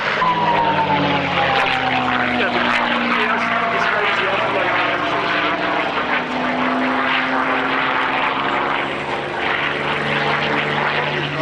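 Packard-built Rolls-Royce Merlin V12 aircraft engine roaring at an airshow, a loud sustained drone with shifting pitch as the plane passes, under an announcer's voice.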